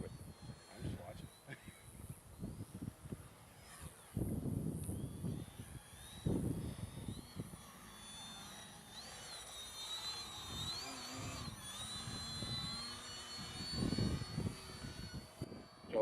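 A Grayson Hobby Yak 55 radio-controlled airplane flies overhead, its small engine whining and shifting pitch as it passes and turns, while people chat nearby over gusty wind noise.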